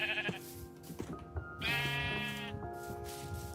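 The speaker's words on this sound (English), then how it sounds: "Dude, more sheep." Sheep bleat several times in a modded Minecraft-style game, in short wavering calls that overlap slightly. They sound close and moderately loud over faint background noise, with no voices.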